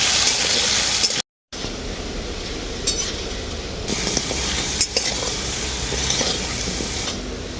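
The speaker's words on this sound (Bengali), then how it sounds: "অল্প হলুদ গুঁড়ো আলুগুলোকে আমি খুব ভালো করে ভেজে নেব" Potatoes with salt and turmeric fry in oil, a loud, close, steady sizzle with stirring scrapes throughout, cut by a brief moment of silence early on; no voices.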